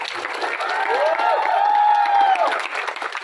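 A crowd claps and cheers at a song launch event, with a dense roar of applause and rising whoops and shouts swelling in the middle before easing off, loud and reverberant.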